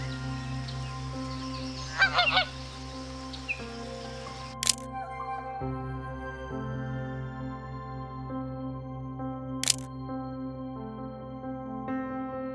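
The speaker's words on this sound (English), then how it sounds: "a rival gang of Canadian geese rolled up on the islanders" Canada geese honking outdoors on a nature walk, a few loud nasal honks rising and falling against steady background, along with a couple of sharp camera shutter clicks.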